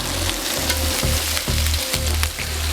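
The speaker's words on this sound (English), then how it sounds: "Cooking bacon on the cooker," Bacon fries on a gas cooker at a campsite, a loud close sizzle and crackle that holds steady throughout, with no talk.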